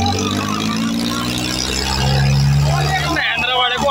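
Preet tractor in a pulling contest against a Mahindra 265 tractor, a loud, strained engine roar rising in pitch under excited shouting voices nearby.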